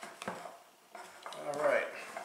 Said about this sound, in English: you just want to stir this until all of the flour is moistened